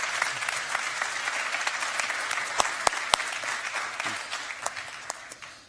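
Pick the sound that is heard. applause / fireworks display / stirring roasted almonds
applause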